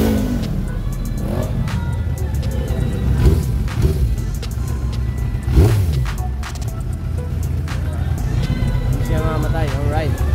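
A Suzuki Impulse 400 motorcycle fitted with aftermarket carburetor floats idles after starting, a steady low engine rumble lasting throughout, close by, with someone talking over it.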